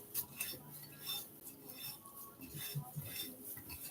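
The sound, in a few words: mixing granola ingredients in a bowl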